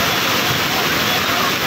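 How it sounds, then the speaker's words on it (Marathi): Floodwater after heavy rain in Khopoli rushes in big waves under a bridge, a loud, continuous roaring wash of water filling the scene. "हा ब्रिज बघा किती मोठ्या लाटा वाहत आहेत."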